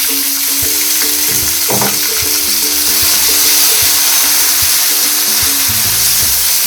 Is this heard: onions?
yes